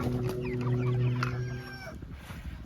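Cornish cross and Rhode Island Red chickens cluck and murmur close by in a coop yard, a dense overlapping chorus of calls fading slightly toward the end.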